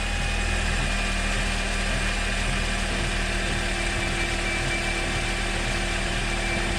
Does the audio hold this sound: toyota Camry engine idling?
yes